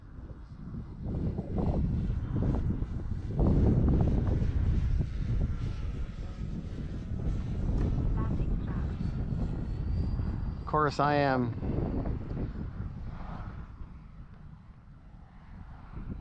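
An E-flite EC 1500 radio-controlled plane flies in high crosswind as it comes in to land, its motor whining faintly over heavy wind buffeting, while someone talks and a short rising electronic tone chirps.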